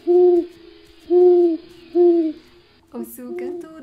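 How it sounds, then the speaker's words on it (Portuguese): An owl hoots three times in a slow, even rhythm, loud and close, followed by a brief busier stretch of sound with no talking. "O sucanto da coruja te chamando pra sentar."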